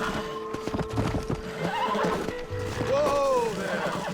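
Horse in the Red Dead Redemption video game whinnies twice with rising-and-falling cries amid clip-clopping hooves, while someone talks over the action.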